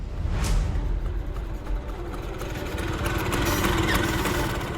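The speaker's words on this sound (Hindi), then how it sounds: "वो देखो स्कूटर की आवाज, लगता है दोनों आ गए।" A scooter's engine pulls up close by, a steady mid-pitched motor drone that holds throughout and grows slightly louder toward the end, with no voices over it.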